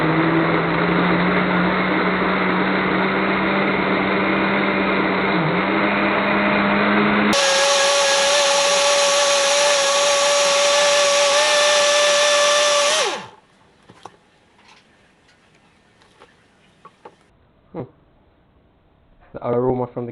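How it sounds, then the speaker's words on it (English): A blender whirs through cashew, ginger and water, first at a slower steady pitch, then stepping up to a higher, louder speed for several seconds before cutting off, followed by faint clinks and handling noises. "Then we're going to gradually build the speed of the blender."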